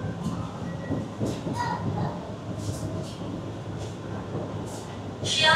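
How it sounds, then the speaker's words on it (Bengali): A Sealdah–Bangaon AC local train pulls out of Barasat Junction station. A steady, close rumble from inside the carriage runs throughout, with faint rail clicks and a brief louder rise at the end. "ট্রেন আমাদের ছেড়ে দিল বারাসাত জংশন স্টেশন"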